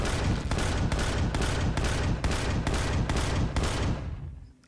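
Weapon fire aimed at the Ghost Raider base in Empyrion: Galactic Survival, about ten evenly spaced heavy shots in a steady rhythm, moderately loud, fading out at the end.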